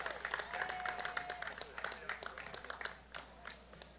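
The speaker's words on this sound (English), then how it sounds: "Round of applause again," Crowd applause at a pickleball award ceremony, steady clapping that keeps going for about four seconds beneath someone speaking over it, moderately loud with a slight dip near the end.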